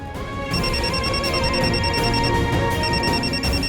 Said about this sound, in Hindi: कली भी कमाल, कमरे में बैठी बैठी मुझे फोन कर रही है